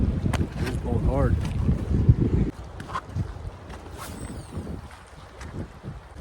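Strong wind blows hard outdoors along the Salmon River on a steelhead fishing and camping trip, buffeting the microphone with loud rumbling gusts that ease off partway through, along with faint rustling and a brief voice.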